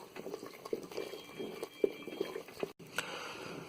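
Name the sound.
milk boiling in a pot for Kashmiri goshtaba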